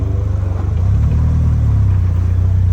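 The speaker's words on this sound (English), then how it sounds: "We're gonna back out of the driveway here." A 2015 Slingshot SL backs out of a driveway, its engine a steady, loud, close low rumble that swells slightly as it gets moving, with no voices.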